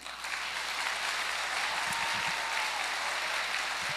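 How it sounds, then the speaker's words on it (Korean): Sustained applause from an audience of church elders at a national elders' association lecture, a steady dense wash of clapping held evenly for about four seconds with no talk over it. "박수 한번 쳐주세요."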